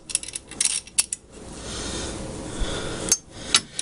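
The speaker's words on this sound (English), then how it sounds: "now we fit the spacers over both bolts" Metal spacers are fitted over bolts while installing SW Motech crash bars on a KLR650 motorcycle, giving sharp metallic clinks and taps close by, scattered over a soft background rustle.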